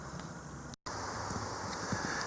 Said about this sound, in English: it is a windy, rainy, blustery day here at the cabin